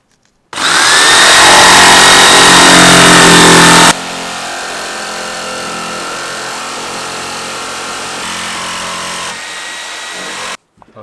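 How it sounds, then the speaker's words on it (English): A power jigsaw cuts through a metal van panel up close, a loud high buzzing rasp that starts abruptly, eases to a steadier lower drone after a few seconds, then stops. "So now it's jigsaw time."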